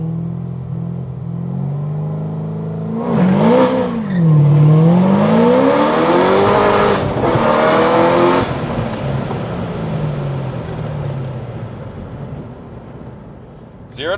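A stock C6 Corvette ZR1 engine idles, then roars hard in a 3,000 RPM launch, revving up through sweeping gear shifts in a 0 to 60 run before easing off into a lower drone.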